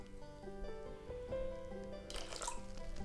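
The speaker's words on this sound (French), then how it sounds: "Donc on va rajouter un petit peu d'eau." Water poured onto oat flakes in a bowl, a steady trickling splash with drips that brightens toward the end, heard alone at close range.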